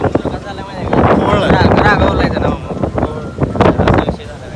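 Rough, foaming sea waves and gusty wind on Malvan beach roar in a steady broadband wash, with people talking loudly over the surf throughout.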